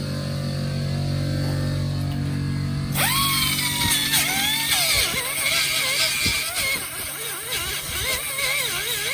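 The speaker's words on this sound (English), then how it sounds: "we're just gonna go ahead and grind them down to make sure it's flat" A power grinder grinds down cut metal bars flat while fitting a bash bar, starting after a low hum and then whining loudly with shifting pitch as it bites into the metal.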